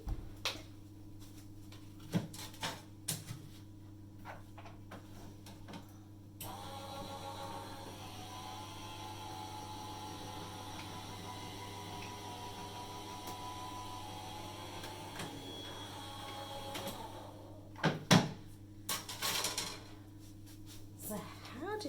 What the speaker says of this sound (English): just give me a second while I run that through my machine